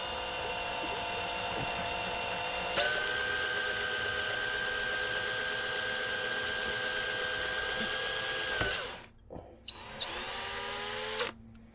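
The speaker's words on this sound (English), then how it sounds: "I'm just going to carefully drill 4 holes for the gold screws" A power drill whines at a steady, slow-to-moderate pitch, close by, drilling holes in acrylic, pausing briefly before spinning up again.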